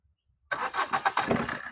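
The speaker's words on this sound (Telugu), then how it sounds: "ఇంజిన్ స్టార్ట్ చేసారు చూసారు కదా" A 2018 Maruti Suzuki Breeza VDI diesel engine cranks and catches after a short silence, rumbling with uneven pulses as it starts up close by.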